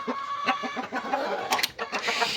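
Chickens cluck steadily in a clean coop, close and fairly loud, with a few sharper squawks over the rhythmic clucking.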